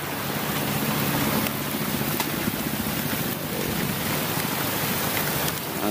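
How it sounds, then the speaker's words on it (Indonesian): Heavy rain pours steadily during a sudden storm at sea aboard a fishing platform, a dense, loud wash of drops drumming on surfaces with a low rumble beneath, no voices. "ini mendadak badai kan bahayanya kalau di tengah laut begini nih tiba-tiba badai"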